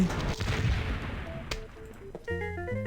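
A Plants vs. Zombies game explosion bursts out early amid noisy effects, followed by a sharp crack and then bright electronic chime tones.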